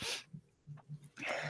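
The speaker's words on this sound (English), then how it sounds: "I sneeze like that all the time" A faint, close human sneeze, with a breathy burst at the start and another at the end, separated by quiet snorting breaths, no talking.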